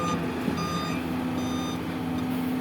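A Caterpillar 336 excavator sounds a steady reversing alarm, its repeated beeps riding over a continuous diesel engine drone close by, with no talking.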